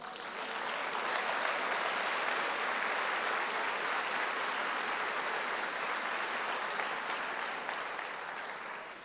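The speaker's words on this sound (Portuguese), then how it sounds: "Vamos dar um aplauso ao Senhor." Sustained applause from a church congregation fills the room evenly for the full stretch, a dense wash of clapping that holds steady and eases off slightly at the very end.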